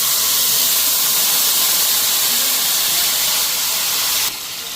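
Five-spice seeds tempering in hot oil give a loud, steady sizzling hiss close by, fading slightly toward the end.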